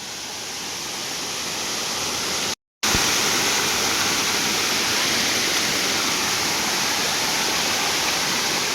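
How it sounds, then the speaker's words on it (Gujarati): A loud, constant roar of a waterfall cascading in the Patanvav hills fills the scene, broken only by a brief cut. "ધોધ છે અહીંયા બહુ જોરદાર મજા આવે"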